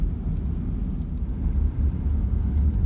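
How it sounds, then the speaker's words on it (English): A 2010 Nissan Murano SUV cruises along, a steady low road and engine rumble heard from inside the cabin, fairly loud and constant with no voices. "This is Rita's last time driving the Murano."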